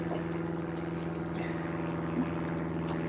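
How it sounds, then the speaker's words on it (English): Small fishing boat's outboard engine running steadily on the plane in the Solent, a constant droning hum with a slight engine pitch shift partway through, close and continuous without talk. "You can hear the RPM change for no throttle change"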